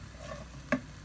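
Butter and a little oil sizzle softly in a frying pan, a faint continuous hiss broken by one short knock of a utensil against the pan.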